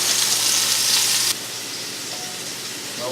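Meatballs sear in a pan over medium-low heat, a bright close sizzle that drops abruptly to a softer, quieter hiss partway through.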